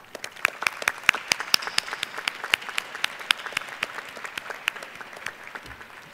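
An audience at a 2017 Heinz College diploma and awards ceremony claps for graduates, a steady patter of scattered hand claps from a medium-sized crowd in a hall, with a few louder nearby claps.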